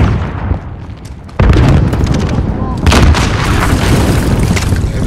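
P90 gunfire in a video game, a dense stream of loud rapid automatic shots with booming impacts that runs almost without a break after a quieter opening second.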